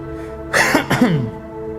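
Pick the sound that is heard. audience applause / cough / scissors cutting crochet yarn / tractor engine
cough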